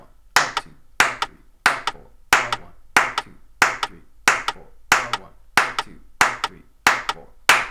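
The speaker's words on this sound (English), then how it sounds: "bear with me just one more clapping exercise" Single pair of hands clapping a steady swing-rhythm exercise, thirteen sharp, evenly spaced claps ringing out close and clear with no talking.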